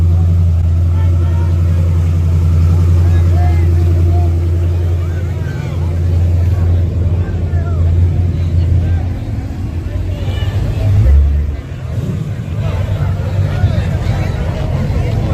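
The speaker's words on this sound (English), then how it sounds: "NITROUS Mustang versus that Turbo GTR." A nitrous-fed LS-swapped Mustang and a turbocharged GTR race side by side at a drag strip, their engines droning loudly and steadily, then surging and fading near the end over crowd chatter.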